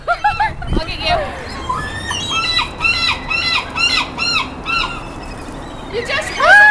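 A flock of seagulls crowds in to be fed, loud repeated squawks and cries overlapping close by, one brief thump early on, with people talking amid the birds.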